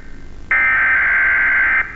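A Siren Head emergency siren from a Poppy Playtime Chapter 3 trailer sounds as a single loud, steady electronic tone lasting over a second, rising abruptly and cutting off, with quiet noise around it.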